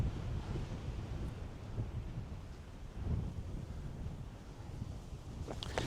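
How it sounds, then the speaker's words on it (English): Strong wind blows across an exposed hilltop by a monument, roaring and buffeting the microphone in a continuous low rumble with gusty surges, no voices present. "It's just a shame it's so windy today."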